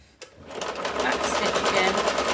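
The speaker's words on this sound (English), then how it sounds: "So just do a little back stitch" Sewing machine running a short back stitch: a brief click, then a rapid even needle rattle building and holding steady at close range, with no one speaking over it.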